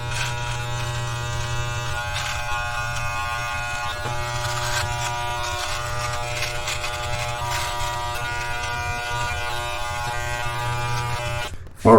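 An electric trimmer buzzes steadily at close range while trimming a beard, holding one constant hum for the whole stretch before a brief bump at the very end.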